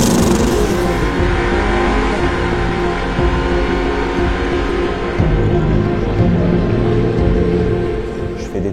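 Race car engine in the GP Explorer 3 event, held at a steady, loud roar that climbs in pitch as it accelerates down the track, close and with no speech.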